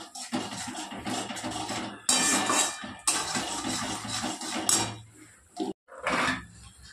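Bowls and dishes are washed with water: ceramic pieces clatter and scrape against each other, with splashing and running water in short, uneven bursts and brief pauses between.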